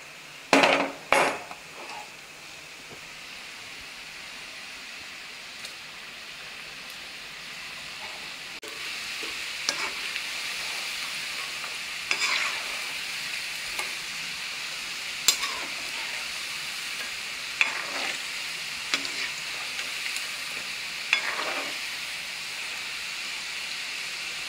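Peanut pakora fry in oil with a constant close sizzling hiss, broken by sharp clatters at the start and scattered light clinks of a utensil.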